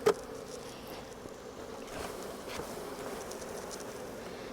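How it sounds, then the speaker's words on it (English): Honey bees buzz steadily around a shaken hive box during a July hive inspection and honey harvest, a soft continuous hum after a brief knock at the start, with no talking. "I'm going to give it a good shake over the hive so that a number of the bees can"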